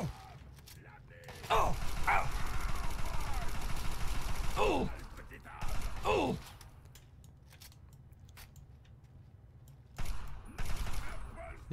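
Rapid bursts of gunfire from the video game Fallout 3, in short clustered volleys with pauses between, alongside mechanical weapon clicks; a player talks in French between the shots.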